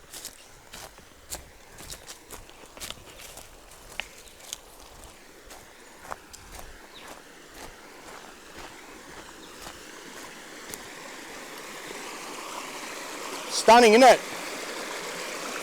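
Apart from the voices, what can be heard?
river flowing past fern bank, footsteps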